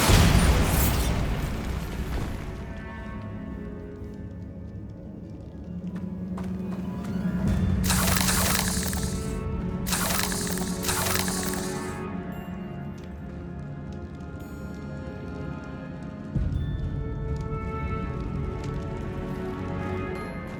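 Bombarda blasting spells explode in Hogwarts Legacy as several loud bursts with sharp crackling peaks between about seven and twelve seconds, over a rumbling, booming background that has another hit near the end.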